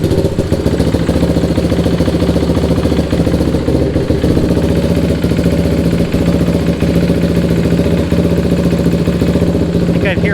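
A Suzuki LTR 450 ATV engine runs at a steady idle with a fast, rhythmic ticking clatter from its valves, loud and close throughout.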